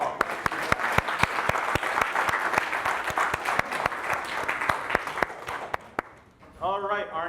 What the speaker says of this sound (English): let's give it up another round of applause for Zach Westfall.